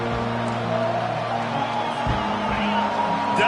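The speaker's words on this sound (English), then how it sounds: "Decibels rising as the crowd gets behind this defense on third down." Stadium crowd noise in an American football video game swells steadily on third down, a dense roar under the defense, broken by one short low thump partway through.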